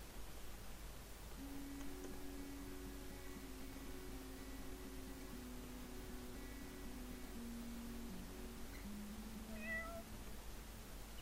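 Kittens meowing inside the video game Dwarf Fortress, a few faint, thin mews rising over a steady hiss of background noise, with no talking.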